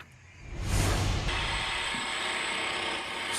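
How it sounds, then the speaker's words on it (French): Construction work at an RATP building site in Paris's 13th arrondissement: loud mechanical ratcheting and grinding clatter rises sharply, then holds as a harsh, continuous machine din. "Ce bruit assourdissant, c'est le quotidien de ces habitants qui jouxtent ce vaste chantier dans le 13e arrondissement"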